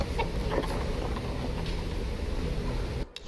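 Chickens cluck in a Tomb Raider game, faint scattered calls over a steady ambient wash, ending in a brief dropout near the end.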